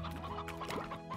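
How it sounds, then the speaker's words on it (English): Chickens in the video game Slime Rancher cluck in a quick, continuous chatter of several overlapping hens, close and fairly loud, with a steady game soundscape underneath and no talking. "They're eating my chickens."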